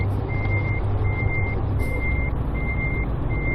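Truck reversing alarm in Euro Truck Simulator 2 while backing into a dock, five evenly spaced beeps over a loud, steady diesel engine rumble, with no talking.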